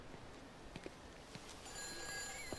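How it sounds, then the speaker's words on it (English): A telephone bell rings in a video game, starting partway through as a steady bright tone. Soft scattered ambient knocks precede it at a low level. "Oh, the telephone ringing?"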